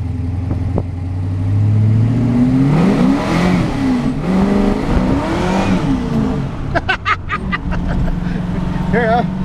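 A 1978 Chevrolet Camaro Z28 with a 509 cubic inch V8 and a five-speed manual revving and accelerating from the driver's seat, engine note climbing and falling through shifts, deep and loud, with someone talking over it.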